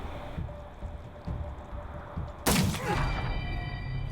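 A single sharp gunshot in the Wasteland video game cracks out loud and close over a low rumbling game ambience, followed by a ringing tail.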